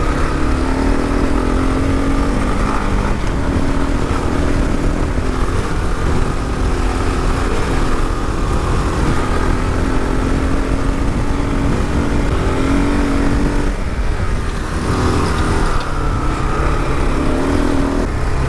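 A 2022 Kawasaki KLR650 ABS dual-sport motorcycle ridden off road, its single-cylinder engine droning loud and close the whole time, with steady throttle, slight rises and dips in revs, and wind rush over the top.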